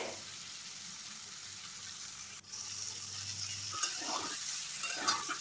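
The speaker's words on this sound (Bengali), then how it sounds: "এঁচোড় ভেজে তুলে নিতে হবে।" Jackfruit pieces fry in hot oil with a steady sizzling hiss, joined near the end by a few scraping stirs in the pan.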